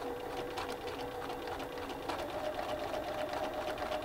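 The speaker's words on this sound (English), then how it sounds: "I'm just going to follow my center line and stitch down the middle of the black" A sewing machine stitches down the middle of a black square on a baseball quilt block, its steady motor whir running evenly and close with no talk.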